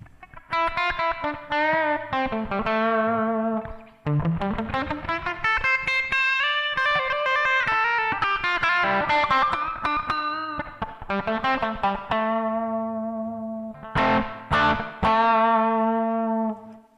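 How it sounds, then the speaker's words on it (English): Distorted electric guitar through a Zoom G1 pedal's tiled room reverb rings out with a bright, short, boxy reverb, like playing in a small tiled room, pausing briefly between phrases. "the opposite of the arena reverb. It's a tiled, tiled room."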